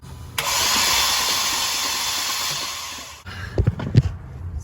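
The 3.6L engine of a 2012 Jeep Grand Cherokee with a blown head gasket cranks in a steady, loud, sustained whir for about three seconds, then cuts off, followed by a few uneven knocks and rumbles.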